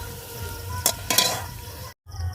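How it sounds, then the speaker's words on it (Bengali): Garlic fries in a pan with a steady, crackling sizzle and a couple of short bursts of scraping or stirring, heard close and alone before a brief cut. "রসুনটাকে একটু ভাজা ভাজা করে নেব"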